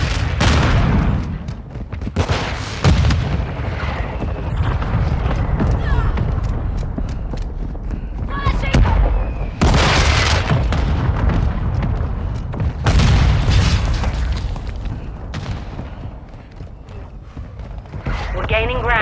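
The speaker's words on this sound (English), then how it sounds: "Hostile mortar strike in the area." Mortar strikes land in online multiplayer Call of Duty MWII. Repeated heavy booming explosions mix with bursts of gunfire across the battlefield, and voices speak over the combat.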